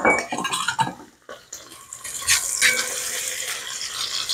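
A utensil lifts onions out of hot oil in a pot, making clinks and scrapes against the metal alongside a light, bubbling sizzle.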